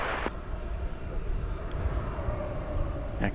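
A Boeing 777-300 on Flight 81 from London makes its night approach into DFW Airport, a steady, broad jet roar with a low rumble that holds for several seconds, with no talk over it.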